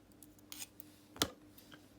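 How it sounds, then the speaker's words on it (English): Scissors snipping off part of a damaged Xbox One controller during an RB button repair, one sharp close cut standing out over a quiet room with a few small plastic clicks around it. "I'll just cut that."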